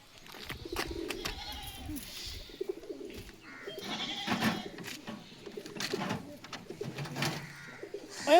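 Pigeons coo close by in low, throaty bursts, mixed with flapping and scuffling noises and some background sounds.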